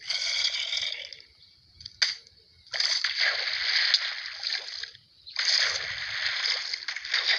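A Minecraft character splashes into water, giving bursts of bright splashing and sloshing separated by short quiet gaps, loud and close.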